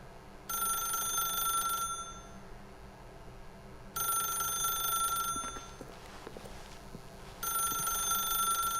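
A telephone rings in The Stanley Parable: three long bright electronic ringing bursts of about one and a half seconds each, separated by quiet gaps with faint background sounds.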